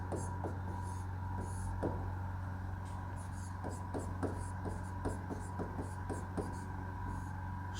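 Pen scratching on paper while notes are written, a series of soft close strokes and taps over a steady low electrical hum, with a voice faintly audible in the background.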